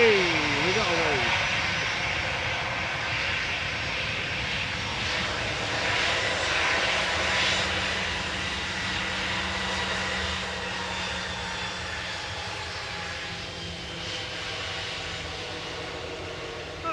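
Jet airliner operating the evening Corfu flight at Manchester Airport, a strong sustained engine roar holding steady throughout with brief talking over it.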